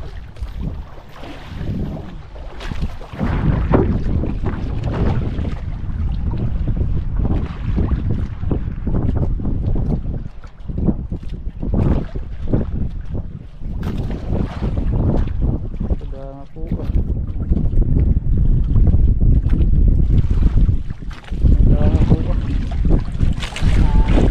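A boat runs through waves in strong northeast monsoon wind, with heavy wind buffeting the microphone and continuous rough water noise, and someone speaks intermittently over the din.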